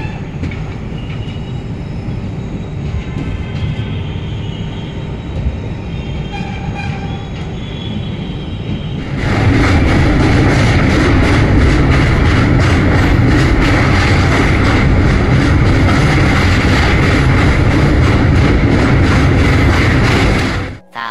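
Dhauli Express train, Puri to Shalimar, running in a chair car: a quieter rumble at first, then a sudden loud, sustained roar and rattle of wheels on rails that continues to the end, no talking.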